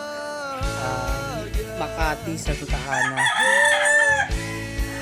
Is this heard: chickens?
yes